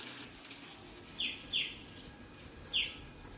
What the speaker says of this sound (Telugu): చిట్టి పిట్ట ఎంత వాయి చేస్తుంది చూడండి